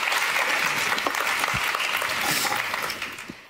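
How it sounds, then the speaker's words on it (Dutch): Audience applause follows a call to welcome someone speaker at a Dutch lecture-style event: a dense, steady wash of many hands clapping, loud and sustained before tapering slightly at the end, with no talking over it. "Geef haar ook een warm applaus."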